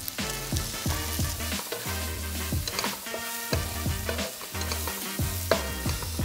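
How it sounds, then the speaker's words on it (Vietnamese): Garlic and dried shrimp stir-frying in an oiled pan, loud continuous sizzling broken by repeated rhythmic stirring clanks of utensil on pan, close and without talk. "Xào qua xào lại khoảng 1 phút"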